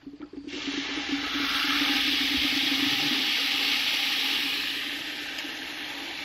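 Water is poured into a mismatched-drive-pipe ram pump to get it started, a steady loud rushing and hissing flow that sets in within a second and holds evenly with no voices.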